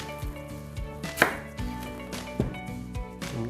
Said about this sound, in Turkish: Ortadan ikiye kesiyorum kerevizimi